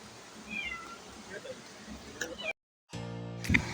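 A cat meows outdoors near a river. Faint, wavering mews sit over background chatter, then a sharp cut leads to a louder, closer section.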